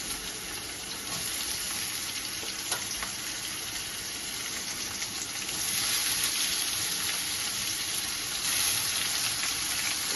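Onion and tomato hit a hot pan for a Bengali country chicken curry, giving a steady, close broadband sizzle that swells louder partway through and holds without a break, with no voices.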